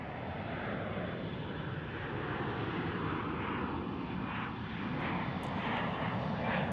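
A Qantas airliner arriving at DFW International Airport, its engines making a loud, continuous, broadband roar that holds steady throughout with no talk over it.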